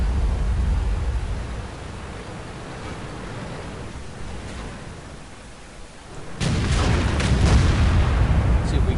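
Tank gun firing at a T-57 in a video game: low rumbling ambience, then a sudden heavy boom at close range followed by a loud sustained roar and crackling debris.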